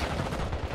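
Dense, continuous gunfire in the mobile shooter Warzone Mobile, loud rapid shots packed together with no break across the moment, no voices heard.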